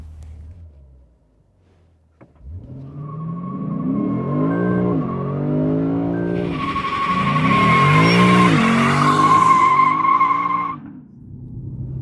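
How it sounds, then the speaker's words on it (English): A Lexus RC F does a burnout, engine revving hard as the tires squeal and skid loudly for several seconds, with rising and falling engine pitch before the squeal cuts off. "What this car can also do is probably burn out."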